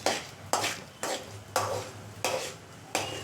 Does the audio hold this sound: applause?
no